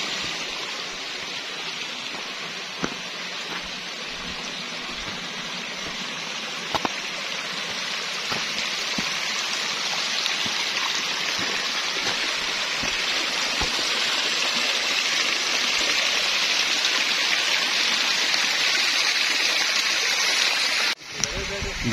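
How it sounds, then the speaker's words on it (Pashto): Waterfall on a mountainside pouring steadily, a broad continuous rushing roar of falling water that builds slightly louder over about twenty seconds, with a few faint knocks and no voices heard. "دغه دی د ابشار را بهیږي ماشاءالله."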